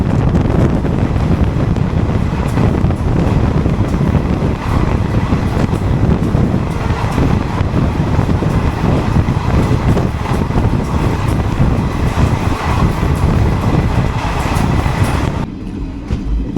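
Balurghat–Siliguri Intercity Express moving at speed, a loud steady rumble of wheels and carriage with strong wind buffeting throughout, easing slightly at the end.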